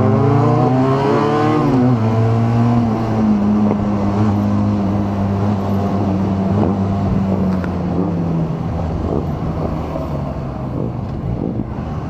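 A 2022 Benelli TRK 502 adventure motorcycle on a test ride, its engine note falling steadily as it slows under engine braking, loud and close with heavy wind rush over the microphone throughout, no talking.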